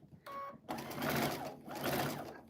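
A sewing machine stitches small quilt half-square triangles, running in a steady, close mechanical whir with a brief pause before the stitching resumes and continues without a break.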